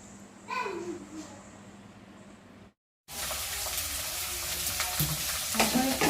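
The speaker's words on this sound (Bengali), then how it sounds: "এখন একটুখানি পোলাও বানিয়ে নেবো, তার জন্য ভেজিটেবলসগুলো এখন ভাজছি।" Vegetables frying in a pan for dalia pulao, a steady loud sizzle with stirring, briefly cut off and then resuming, with faint voices in the background.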